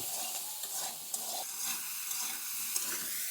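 Komli greens frying and sizzling in a pan with salt, a steady close hiss running throughout with small stirring bumps and no voices.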